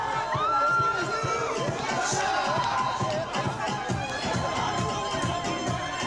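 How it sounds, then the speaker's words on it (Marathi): Yuva Sena supporters celebrate outside Matoshri, with a steady crowd roar of cheering, chatter and shouts all the way through, and a brief spoken word over the noise. "या ठिकाणी मातोश्री बाहेर युवा सेनेच्या वतीनं जल्लोष साजरा करण्यात आलेला आहे"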